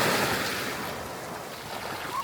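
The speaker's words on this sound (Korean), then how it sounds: "철썩 있는 파도 소리가 마음을 시원하게 해줍니다." Ocean waves wash onto a small pebbly beach at the end of a coastal trail on Korea's west coast, a steady, close surf rush that slowly eases in loudness.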